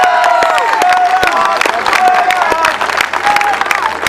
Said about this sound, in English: Give Gerard a little round of applause.